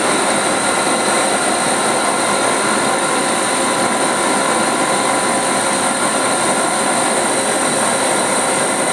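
Machine tool spindle running at 3000 RPM in second gear, producing a loud, steady high-pitched whine and broad rushing hum that holds constant throughout with no talk.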